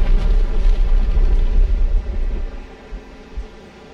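A massive video game explosion erupts in a demon hunter fight, a loud deep rumbling roar that dominates the first seconds and then decays into a fading low rumble.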